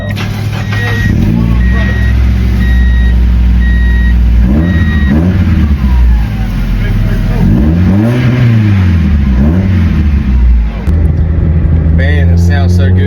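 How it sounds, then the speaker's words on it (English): A Mazda MX-5 Miata with a Magnaflow exhaust cranks up and revs, the loud close engine rumble rising and falling through several blips over a steady idle. "So here's the first crank up with the Magnaflow exhaust."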